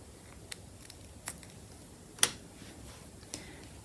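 Scissors trim beading thread on a seed-bead necklace, making a few quiet, sharp snips spaced apart against near silence.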